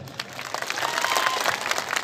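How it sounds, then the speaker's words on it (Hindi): An audience at a political election rally in Margherita, Assam claps, starting softly and swelling into fuller, steady applause heard at a moderate distance. "देख लगी जोरदार ताली"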